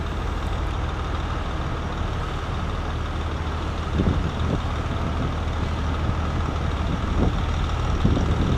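A truck towing a wood chipper backs up on a cold day with its engine rumbling steadily up close, while faint backup beeps and occasional clatters sit under the drone.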